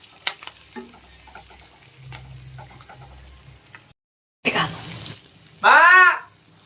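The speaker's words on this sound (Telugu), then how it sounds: "చిన్న చేపల ఫ్రై" Small fish frying in a pan with green chillies and curry leaves, with a quiet sizzle that flares into a brief loud crackling burst, followed by a voice calling out.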